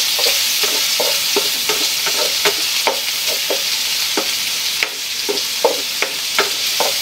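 Pork, garlic, onion and tomato frying together in a kawali, a loud continuous sizzle close up, punctuated by repeated spatula scrapes and stirring knocks at an uneven rhythm.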